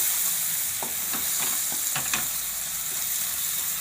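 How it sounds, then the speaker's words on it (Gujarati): Chole masala, including amchur powder, sizzles in a hot pan while a spoon scrapes and stirs it, giving a steady frying hiss broken by a series of soft rhythmic scraping clicks. "અને આ આપણે છોલેનો મસાલો છે એ નાખી દેવું અને આમચૂર પાવડર નાખી દેવું. બધું સરસ આપણે પકાવી લેવું"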